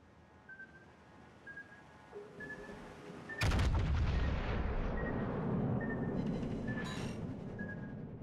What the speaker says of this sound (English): Why are my secondaries firing?